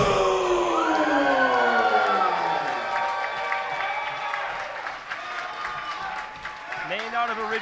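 Wrestling-event crowd applauds and cheers for Delilah Doom under music, with whoops rising from a steady roar of clapping that stays fairly loud throughout.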